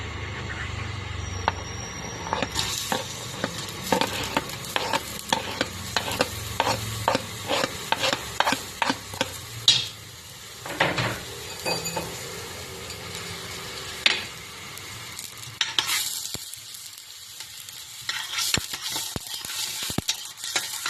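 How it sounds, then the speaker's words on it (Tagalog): Onions stir-fried in a pan for prawn noodles, with steady stirring scrapes and clatters of a utensil over a continuous sizzle, loud and close, fading to quieter sizzling near the end. "Stir-fry natin yung sibuyas."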